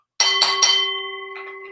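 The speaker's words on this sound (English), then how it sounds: "that'll be our opening bell" Opening bell for a wrestling-themed post-show, three quick bright metallic strikes followed by a ringing tone that decays, then a softer fourth ring, loud and close with no talk.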